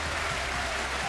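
Snooker crowd applauding at a match, a steady broadband wash of clapping sustained throughout at moderate level with no voices on top.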